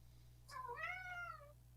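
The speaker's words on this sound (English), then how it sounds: "Cat. He wants out." A single drawn-out meow from a cat that wants to be let out, close and clear over a low steady hum, with no talk.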